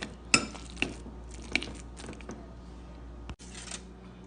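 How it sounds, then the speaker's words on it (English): Plantain being crushed for a Jamaican plantain tart filling, a few sharp clicking taps and soft squishing, crunching scrapes at close range, faint and intermittent. "Now I'm crushing these because they're going to be the filling for my plantain tarts"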